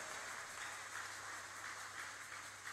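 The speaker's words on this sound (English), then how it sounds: "Can we clap for Jesus for that?" A church congregation at a prayer meeting claps together in a steady, dense patter of applause, heard from a distance and fairly faint, with no talking over it.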